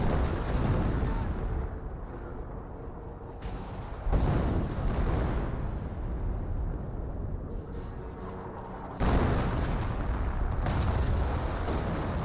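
88 artillery fire in Company of Heroes, heavy booming blasts at roughly four and nine seconds, each followed by a sustained rumbling wash over a continuous battle-noise bed.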